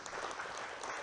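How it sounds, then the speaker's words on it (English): Audience applause at a winter ranch management meeting, steady clapping from a crowd filling the whole second without a break. "let's give Chris and Keith a nice round of applause"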